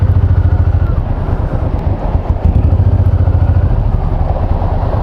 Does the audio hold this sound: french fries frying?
no